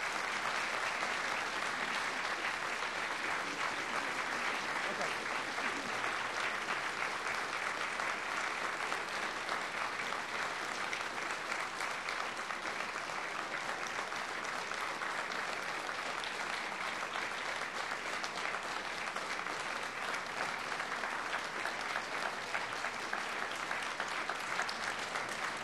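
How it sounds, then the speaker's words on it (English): Sustained audience applause for election candidates, a dense steady clapping that fills the whole stretch at an even level with no break. "let's give one final round of applause for all the candidates"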